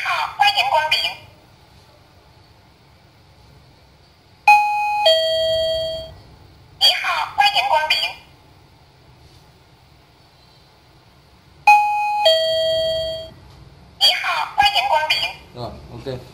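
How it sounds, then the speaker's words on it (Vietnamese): A KR-M5 motion sensor door chime sounds repeatedly: clear electronic ding tones alternate with recorded greeting bursts, loud and close, with quiet pauses between triggers. "cái chuông báo khách có cảm biến chuyển động"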